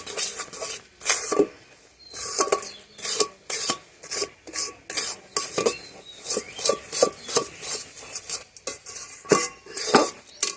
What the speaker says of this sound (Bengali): এবার গুড়ের সাথে মিশিয়ে নিই।